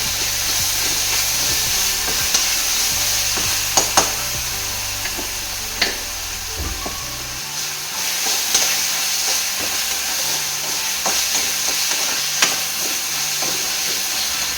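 Crushed ginger, garlic and green chili paste fries in a pan of tomato rice masala, giving a steady, bright sizzle and hiss throughout, with a few sharp clicks of stirring, close and with no talk.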